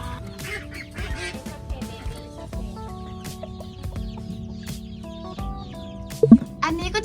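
Hens cluck and squawk intermittently over a steady low hum, with a sharper burst of calls near the end.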